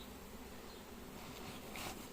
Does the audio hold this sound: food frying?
no